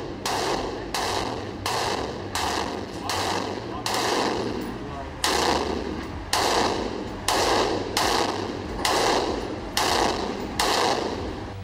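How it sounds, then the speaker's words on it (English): Rapid bursts of fire from a PTS Magpul RM4 ERG electric recoil airsoft rifle, about a dozen sharp, loud strings of shots separated by brief pauses, close by. "And we have the Rm4 Erg electric recoil gun."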